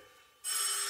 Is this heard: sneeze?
no